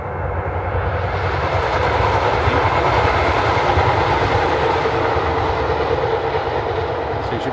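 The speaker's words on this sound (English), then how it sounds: "and now there's another one coming. I think it's another metro." A metro train passes nearby with a steady, loud rumble and a faint clickety-clack of wheels on the rails. The noise holds constant and fills the whole stretch, with no voices over it.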